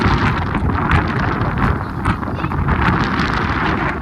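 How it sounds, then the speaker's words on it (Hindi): Strong wind in the hills of Uttarakhand roars loudly and continuously against the microphone, a dense, close rumble with no break. "इतनी तेज़ हवा चल रही है आज।"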